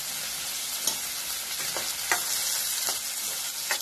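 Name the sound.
stirring turmeric in hot oil in a pan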